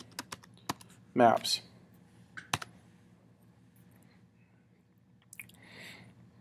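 A web address is typed on a computer keyboard: sparse, crisp key clicks close by, with a few quick clusters and pauses in between, while a voice speaks briefly.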